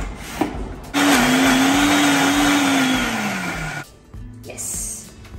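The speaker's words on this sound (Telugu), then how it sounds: "ఫ్రై చేసుకున్న ఆనియన్స్ వేసేసుకున్నాక 1 టీ గ్లాస్ నీళ్లు వేసుకొని గ్రైండ్ చేసుకుందాం." Mixer grinder blending fried onions with a glass of water, a loud steady motor whine running for about three seconds, slowly dropping in pitch before cutting off, with clatter around it.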